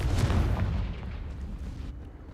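A Confringo spell blast in a video game lands as one heavy, booming explosion at the start, its rumble decaying steadily over two seconds.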